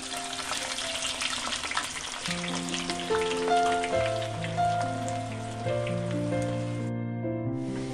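Amla (Indian gooseberries) frying in oil in a pan for homemade hair oil, a dense continuous sizzle and crackle like rain, with an unrelated melodic tone rising underneath.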